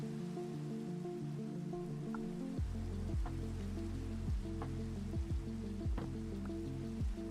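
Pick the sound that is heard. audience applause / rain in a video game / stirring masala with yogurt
rain in a video game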